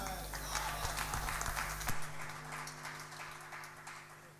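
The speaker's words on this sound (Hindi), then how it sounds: "आपकी भरपूर तालियों में फरूख अदील" Audience applause for poet Farrukh Adeel at a poetry gathering, a broad wash of clapping that swells loudly, then drops off sharply partway through, leaving a faint hum.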